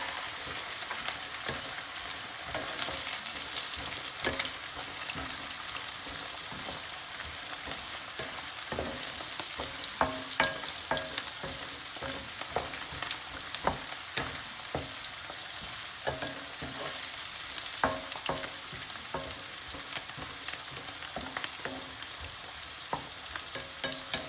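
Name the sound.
stirring onions and celery frying in pot for chicken recipe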